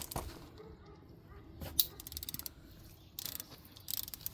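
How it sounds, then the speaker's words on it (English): A socket bit turning a bolt loose on an Impala brake job gives short bursts of ratcheting clicks with a sharp metallic clink, close up and fairly quiet, with pauses between the bursts. "let's take off this bolt"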